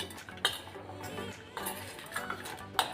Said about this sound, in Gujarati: આ રીતના સારી રીતે હલાવી અને સરસ એવું મિક્સ કરી લઈશું